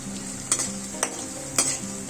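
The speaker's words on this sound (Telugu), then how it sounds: "అల్లం వెల్లుల్లిని సన్నగా కట్ చేసుకొని ఫ్రై చేసుకోవాలి" Finely chopped ginger and garlic fry in a pan for veg manchurian, with a steady background sizzle broken by three brisk metallic stirring scrapes.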